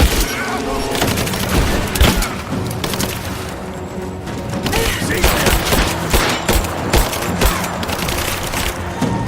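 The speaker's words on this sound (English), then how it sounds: "Give me suppressing fire!" Sustained firefight in Rise of the Tomb Raider: dense overlapping bursts of automatic gunfire and heavy booms, loud and continuous throughout, with shouted voices mixed in.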